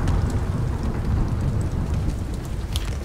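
Steady heavy rain with rumbling thunder during a lightning storm in the Subnautica Below Zero video game, continuous and dense, with no talk.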